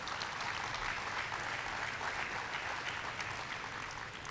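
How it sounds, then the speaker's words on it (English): Steady crowd applause at a college basketball jersey retirement ceremony, a dense even wash of many hands clapping that holds at a moderate level throughout with no talk over it. "so give them a round of applause."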